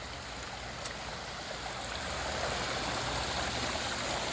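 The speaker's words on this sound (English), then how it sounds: "This is my waterfall." A backyard pond waterfall built from a converted pool pours steadily in a broad, even hiss of falling water, close and fairly loud with no break, and no voices over it.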